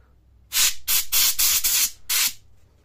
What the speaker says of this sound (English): how to clean the CPU fan, the cooling fan. Usually I use a compressed air for cleaning.